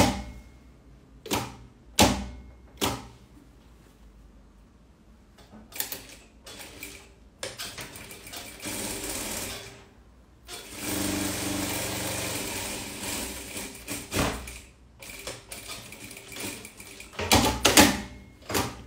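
A sewing machine stitches fabric for a knotted top. It runs in short, close, whirring bursts, then settles into a longer steady run before stopping and starting again, with no talking.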